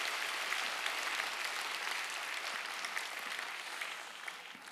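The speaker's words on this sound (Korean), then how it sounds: "우리 하나님 앞에 감사와 그리고 고마움의 박수를 한번 올려드리겠습니다." Steady applause from a church congregation, a dense continuous patter of clapping that holds at an even level for several seconds before easing slightly.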